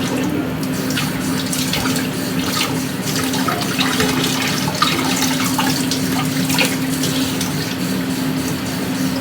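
Cold tap water runs steadily over cooked pasta in a kitchen sink while it cools, a continuous close rushing splash with no talk.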